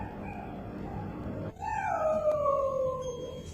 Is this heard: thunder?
no